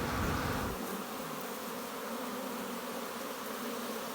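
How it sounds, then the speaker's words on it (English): Dense, continuous buzzing of many honey bees swarming around a hive during queen rearing, a steady close hum that starts with a brief louder rumble, with no talk. "the bees are really going at it. There's bees everywhere out here."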